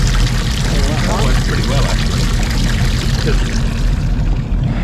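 Water pump forcing water into a live bait tank aboard a Caribbean boat, a steady rushing pour that runs throughout under a constant low hum, with people talking over it.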